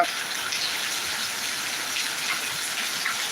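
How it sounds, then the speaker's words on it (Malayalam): A heavy downpour drums steadily on surfaces in a thunderstorm, a thick, even roar of rain close by with no pauses and no one speaking. "നല്ലൊരു കിടില മഴ പെയ്യുന്നു കേട്ടോ"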